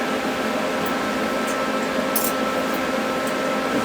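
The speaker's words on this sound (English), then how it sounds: "There's the last little bit to weld around here." TIG welding around a flange on a homemade gas turbine combustor gives a steady hiss and buzz that holds evenly throughout, close and without a break.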